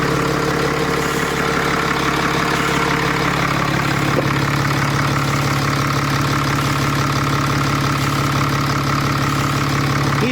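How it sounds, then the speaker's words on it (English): A Ram pickup's Cummins 6.7 diesel engine idles loud and close, giving a continuous low rumble with a ticking, knocking clatter throughout and no voices. "These trucks make funny noises when they're idling."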